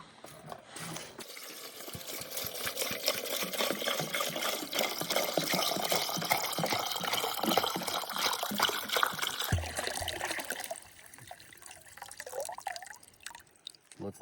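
Water pours steadily into the three-gallon tank of a Joolca HOTTAP GO portable water heater, a continuous close splashing rush that lasts several seconds before stopping abruptly, followed by faint trickling.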